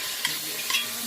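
Onions cooking down in a pan for plant-based smothered cabbage, a soft steady sizzle with faint stirring scrapes, quiet and close, no voices.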